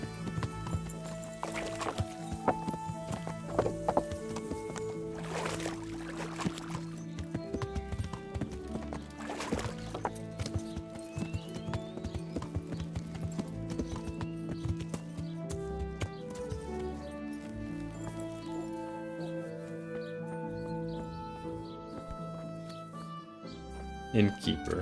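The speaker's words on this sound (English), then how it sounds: "I was getting on my horse." Horse hooves clip-clop steadily in the medieval game Kingdom Come: Deliverance, mixed under music and ambient sound at a moderate level.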